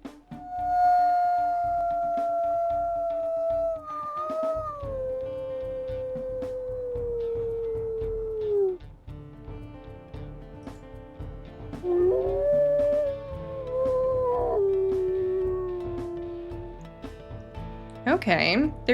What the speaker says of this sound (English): Let's go and listen to his howls.